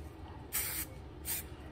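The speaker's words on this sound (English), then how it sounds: "I'm just gonna take some Got to Be" Two short bursts of Got2b aerosol hairspray hiss close by, each about a third of a second, separated by a brief quiet gap.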